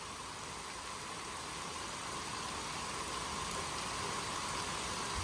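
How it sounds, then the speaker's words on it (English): Wind-driven rain during a morning squall line, a dense, even hiss of steady rainfall that runs unbroken and fairly loud throughout. "We're still having some wind-driven rain, but it's not that much wind."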